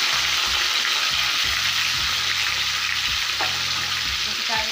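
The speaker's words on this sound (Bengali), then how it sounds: "এটাও ভাজা হয়ে এসছে, হালকাভাবে ভেজেছি, খুব বেশি কড়া করে ভাজা যাবে না।" Chicken marinated in salt and turmeric fries lightly in oil, giving a steady, close sizzle throughout with a few soft stirring knocks and clinks.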